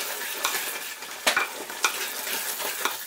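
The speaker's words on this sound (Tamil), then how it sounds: "இந்த ஸ்டேஜில் வந்து நல்லா ஒரு கிண்டி கிண்டிக்கலாம்" Paneer biryani masala, its oil separated and rising, is stirred in a pan: a steady close sizzle broken by a few sharp spatula scrapes, with no voices.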